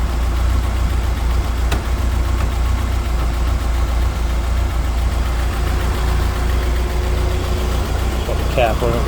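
A Ford Escort engine idles steadily and close by while its overheated cooling system kettles inside a hot radiator, a continuous low rumble with faint bubbling texture and no talk.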